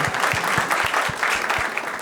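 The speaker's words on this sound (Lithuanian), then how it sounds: "Plojimai Justui Čepukui." A crowd applauding steadily, a dense wash of clapping that holds at an even level throughout.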